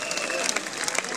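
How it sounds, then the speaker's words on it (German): Live audience applause after a performance by a house-music duo, a dense steady wash of many hands clapping at fairly even loudness for about a second, with faint voices underneath. "Applaus, ich danke beiden"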